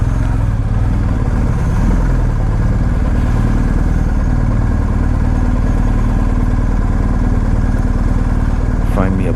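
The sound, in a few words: BMW R1250GSA motorcycle engine idling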